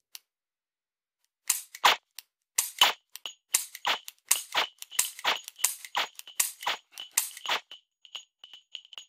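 Dry-fire clicks from a laser training pistol, sharp metallic snaps fired one after another in a loose irregular rhythm, close and crisp with silence between, some followed by faint electronic beeps from the target system.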